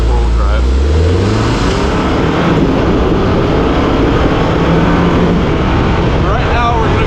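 A Segway SuperVillain UTV with a 2000cc engine and six-speed automatic drives off-road in four-wheel drive with a loud, constant engine drone, revving up at the start, heard close from the cabin.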